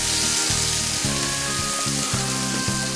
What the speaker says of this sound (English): we mix the onion and the garlic around